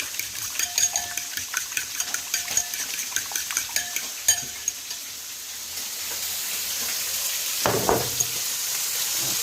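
Egg stirred into sautéed bitter gourd (ampalaya) sizzles in a pan, with a dense steady frying hiss under close clinks and scrapes of a utensil against the pan, ending in a louder stir.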